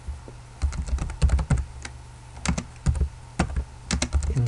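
Fast typing on a computer keyboard at a desk, close and crisp, with irregular bursts of key clacks and pauses between phrases, no voices over it.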